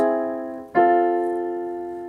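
A sustained augmented piano triad rings out, then a second chord resolving it is struck and held, decaying slowly with no voices.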